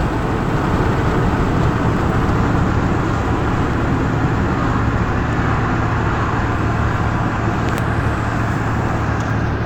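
Loud truck racing alongside on a road, a steady roaring wash of engine and tire noise that fills the whole stretch, close and constant with no break and no talk.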